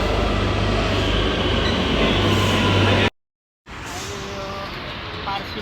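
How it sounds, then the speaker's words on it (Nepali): A Barcelona metro train pulls into the station, giving a loud rumbling rush with wheel clatter that cuts off abruptly, then resumes as quieter station ambience with faint voices. "हाम्रो मेट्रो पनि आइपुग्यो।"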